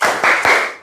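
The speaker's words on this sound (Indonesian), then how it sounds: "Tepuk semangat." A classroom of students claps a quick rhythmic spirit-clap chant, three sharp bursts of many hands in close succession, loud and near with no talking.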